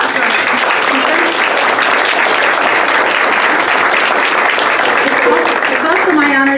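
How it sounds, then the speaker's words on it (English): An audience at a Monterey County Black Caucus community organizing event applauds a speaker, a loud, dense, sustained clapping from a full room that continues steadily throughout, with a voice starting to speak near the end. "join me in a big round of applause for our speaker"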